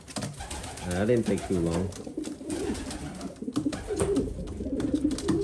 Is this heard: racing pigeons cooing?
yes